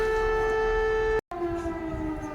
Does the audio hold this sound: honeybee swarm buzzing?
no